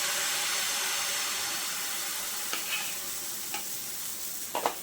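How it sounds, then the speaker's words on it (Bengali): Flour batter sizzles steadily on a hot, oiled tawa, a loud continuous close hiss of frying with a few soft scraping touches near the end. "এখন আমি ময়দার মিশ্রণটা একটু একটু করে ঢেলে নিয়ে রুটি বানিয়ে নেব।"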